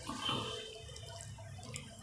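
Water is poured little by little into flour mixed for mung bean paratha dough, giving a soft close trickle and a few drips that fade over two seconds, with no talking.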